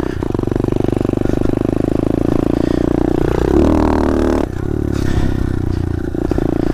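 An SSR 125 motorcycle rides in third gear, its engine droning loud and close with a steady rumble that shifts pitch midway, then drops slightly in level.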